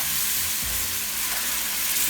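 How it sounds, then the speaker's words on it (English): Gravy for shrimp and grits sizzles and crackles in a hot pan, a steady hiss of frying with faint stirring, no voices. "You hear that sizzle? That's what you want to hear when you're making gravy."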